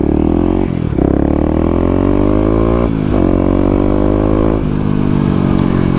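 A Kawasaki KLX250 motorcycle revs hard through several wheelies, its engine climbing in pitch, dropping off briefly, then surging again, loud and close throughout with no voices.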